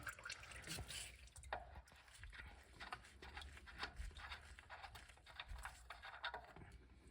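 Engine oil drains from a 2004 Infiniti G35, a faint, irregular trickle and patter of liquid with small drips, heard close up over a low background rumble.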